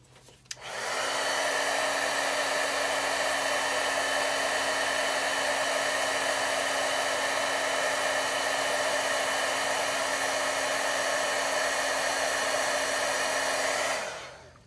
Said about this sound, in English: that heat gun is just going to heat it in place.